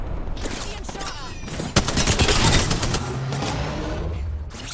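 Rapid bursts of automatic gunfire and scattered single shots crack from close by in the video game Apex Legends. A loud blast hits near the two-second mark, and the firing keeps up through the rest of the clip.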